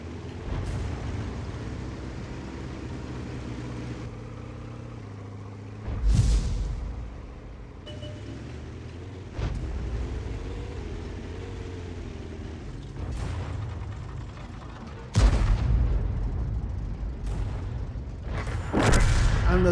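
Tank cannon shells firing in a tank battle video game, several heavy booming shots spaced seconds apart, each a sharp loud blast with rumbling decay over a low engine drone.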